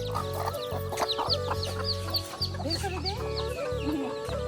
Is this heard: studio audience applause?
no